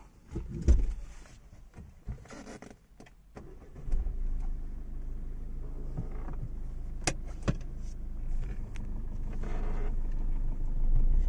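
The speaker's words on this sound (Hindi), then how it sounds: "अभी हम गाड़ी चला कर दिखाते आपको" A Ford EcoSport being driven, with a low, continuous engine and road rumble that builds slightly over several seconds, broken by a few short clicks and knocks inside the cabin, no talking.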